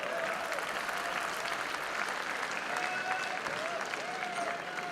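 An audience applauds at a mushaira in Dubai, dense continuous clapping from a large crowd holding steady throughout, with faint voices mixed in.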